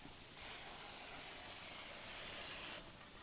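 A single continuous spray of rubber seal protectant onto a Toyota RAV4 Prime's door seals hisses for about two and a half seconds, close and fairly quiet, then stops abruptly.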